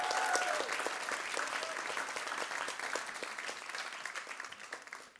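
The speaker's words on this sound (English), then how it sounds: "can I get a big round of applause for our house band of the day" Audience applause for a house band at a waste-reduction challenge kick-off event, a sustained patter of many hands clapping, fairly quiet and fading slightly toward the end.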